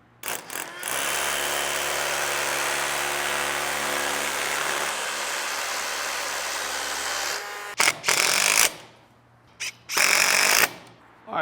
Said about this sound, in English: now set the depth here, so that way I don't drill too deep into this concrete